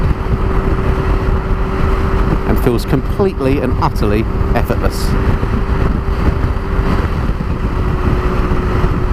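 A 2017 BMW K1600GT motorcycle cruises at about 70 mph, its engine turning under 4,000 RPM as a steady low drone with wind rush throughout, while a rider talks over it.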